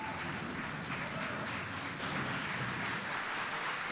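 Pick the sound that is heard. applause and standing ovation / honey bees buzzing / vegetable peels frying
applause and standing ovation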